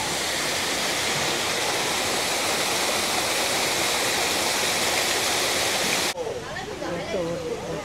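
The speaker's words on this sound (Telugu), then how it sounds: "ఇట్లాగా వాటర్ ఫాల్స్ ఉన్నాయి." A waterfall at Singapore Zoo roars in a loud, steady, close-up rush for about six seconds, then drops away to quieter ambience while a voice speaks.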